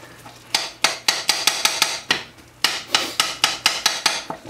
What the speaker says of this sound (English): You just gotta keep stirring it and get it all over the place.